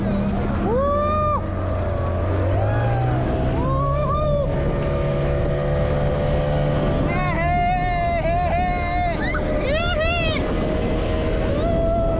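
A motorboat runs off Dandi Beach in Malvan during water sports such as bumper rides. Its engine drones steadily throughout while excited voices shout and call over it.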